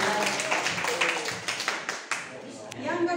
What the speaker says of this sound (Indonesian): Tepuk tangan untuk kelompok amat.